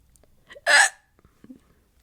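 A single sharp, loud hiccup comes from a person with R-CPD, the inability to burp, followed by quiet, faint breathing and small mouth sounds.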